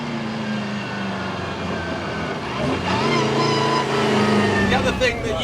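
A JDM-engined Austin-Healey Sprite revs hard, a loud engine note climbing in pitch toward the end with layered harmonics over road rumble, heard from inside the cabin while people talk over it.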